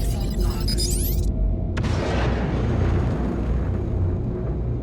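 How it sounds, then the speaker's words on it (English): Missiles striking a probe in the space game Star Citizen: a brief rising launch whine, then a deep booming explosion that rumbles and decays under a steady engine drone. "Go ahead and just put missiles into it."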